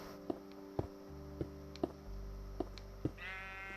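Blocky Minecraft sheep bleats in the video game, a series of short repeated bleats spaced about half a second apart over a low steady hum, with a brief rising tone near the end.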